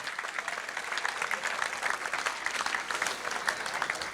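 Sustained audience applause at a football club's end-of-season awards evening, a dense, steady clatter of many hands filling the room for the full stretch without a break.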